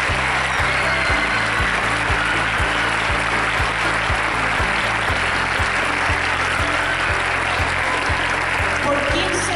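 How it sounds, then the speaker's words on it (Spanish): Sustained, loud audience applause fills a school anniversary ceremony hall for the whole stretch, a dense steady wash of many hands with rhythmic low thumps from music or a beat running underneath. "Un fuerte aplauso para ellos"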